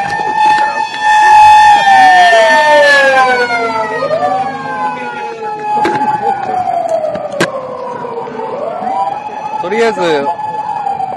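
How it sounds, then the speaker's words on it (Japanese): A Tokyo Fire Department emergency vehicle's siren wails in rising and falling sweeps, loud and close, with a brief spoken phrase over it. "リスナーが大好きなサイレンの音聞けてよかったじゃん。"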